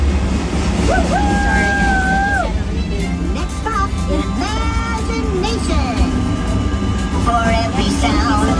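Train effect on the Journey Into Imagination with Figment dark ride, with whistle-like tonal toots over a steady rumbling ride soundtrack, heard loud and close while voices sing and speak.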